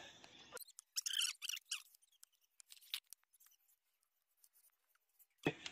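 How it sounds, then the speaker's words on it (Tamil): A thorny vegetable plant in a rooftop garden gets cut down with scissors, heard as several crisp close snips and rustles separated by near-silent pauses. "இந்த செடியை ஃபுல்லாகவே கட் பண்ணி விட போகிறேங்க"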